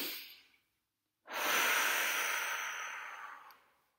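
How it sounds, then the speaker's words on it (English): A single big breath drawn in close to the microphone, a breathy airy rush lasting over two seconds that fades out gradually, with no speech. "you can take a big breath"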